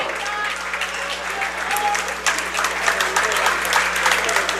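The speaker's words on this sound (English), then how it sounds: "Josh Hartland, the senior, checks out the nice round of applause here" A crowd at a high school basketball game, GHS Wave against Sidney, claps in a steady round of applause that holds at a moderate level throughout, with faint voices mixed in.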